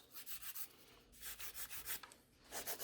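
A nail file rubs back and forth across a fresh gel nail, shaping one side then the other, in quick repeated scratchy strokes close up, with brief pauses between bursts.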